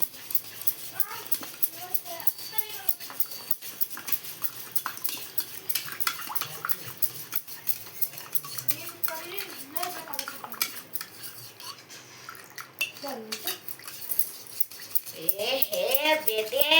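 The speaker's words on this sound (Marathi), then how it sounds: "हलवून हलवून हलवून साखर सगळी विसळायची" A spoon stirs sugar into a cold sherbet drink in a glass, clinking and scraping in rapid, steady rounds close by, with a voice talking over much of it.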